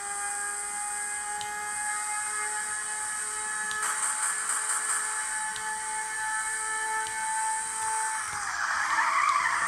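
Race cars in Ridge Racer Revolution, the PlayStation 1 game run on a Retroid Pocket 2+ handheld, roar with a steady engine drone and long hissing tire skids, loud and continuous, swelling into a harsher screech near the end.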